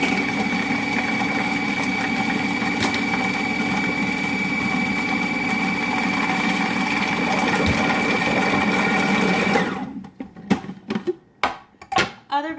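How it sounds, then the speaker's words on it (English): Blender whirring steadily as it purees ricotta crepe batter, a loud, continuous motor drone for about ten seconds that cuts off abruptly, followed by a few short clattering knocks. "And now you are going to blend until combined, until it's nice and smooth."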